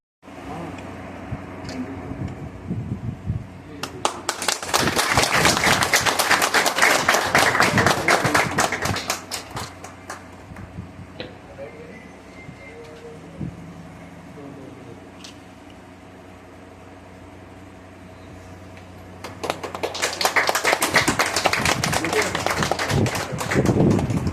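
Scattered crowd gathered for a Bank of India branch inauguration in Jagdishpur, Amethi, clapping in two loud bursts of applause separated by quieter murmuring and background noise.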